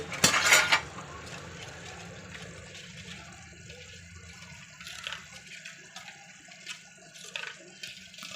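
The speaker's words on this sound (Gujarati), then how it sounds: "એમાં નાખી દઈએ થોડુંક પાણી" Water pours into a cooking pot of corn curry, a short loud splash at the start settling into a steady low rush and trickle, with faint clinks and handling sounds around it.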